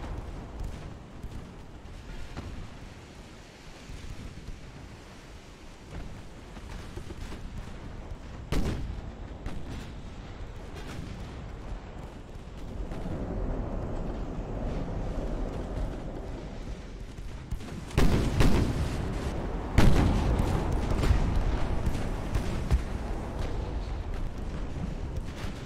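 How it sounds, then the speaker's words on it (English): Naval guns in an 1898 Battle of Manila Bay engagement in Ultimate Admiral: Dreadnoughts, heavy booming salvos at irregular intervals over a continuous rumbling battle ambience, several loud blasts clustered near the end. "the heavy, the bigger guns, which is firing on the purification right now"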